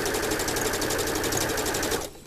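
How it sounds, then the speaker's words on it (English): A sewing machine runs fast and steadily while stitching the seam of a decorative pillow, its needle rattling close and evenly for about two seconds before stopping abruptly. "back stitch at the end, sew off the edge."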